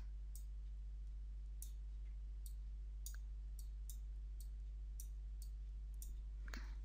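Computer mouse clicking during Photoshop retouching, a string of sharp, isolated clicks spaced irregularly about half a second to a second apart over a steady low electrical hum, close and fairly quiet.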